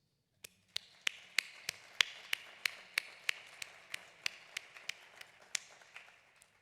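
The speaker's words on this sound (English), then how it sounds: "Please join me in applauding our new leaders." An audience applauds newly elected nursing leaders at a business meeting: about eighteen crisp, evenly spaced claps, fairly faint and sounding like a single steady clapper, with no talk.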